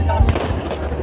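Firecracker bombs set off by boys at a birthday celebration give a couple of close, sharp bangs over a loud, rumbling outdoor scene, with voices mixed in.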